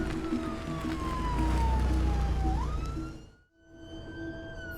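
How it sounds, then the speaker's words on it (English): An ambulance siren wails from inside the vehicle as it runs on blue lights with a patient aboard, a loud rising and falling tone that cuts out briefly and then resumes over engine rumble. "We're going on blue lights and sirens just so we get you to see a doctor straight away"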